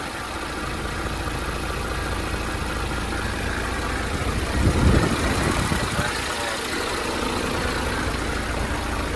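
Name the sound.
Isuzu Forward 6HK1 truck engine idling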